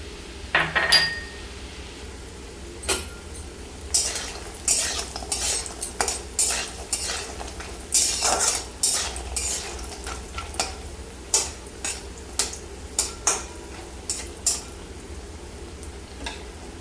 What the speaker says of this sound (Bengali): তাতে এখন আমি বড়িগুলো হালকা একটু লাল করে ভেজে তুলে নিব।